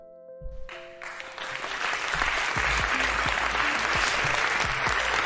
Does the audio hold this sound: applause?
yes